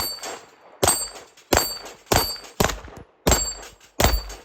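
Six evenly spaced shots from a Tisas Duty full-size 9mm 1911 firing 124 grain S&B ammo crack out at an outdoor range, each followed by a short ringing clang from a steel plate rack, with no talking.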